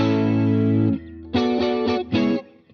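A shimmering electric guitar chord with a chorus effect rings out, then is struck again in short rhythmic strums with a swirling, wavering tone.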